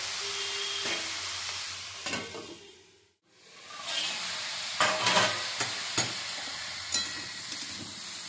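A spoon scrapes and clacks through cauliflower stalk curry in a pan, over a soft steady sizzle, with several sharp knocks against the pan and a short pause midway.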